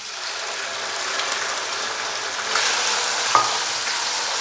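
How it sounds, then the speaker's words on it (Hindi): Half a kilo of boneless chicken fries in a pan with garlic, giving a steady close sizzle and crackle with a few stirring scrapes and no talk. "तो अभी मैं इसके अंदर चिकन डालूंगा।"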